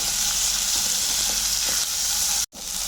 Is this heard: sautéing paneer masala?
yes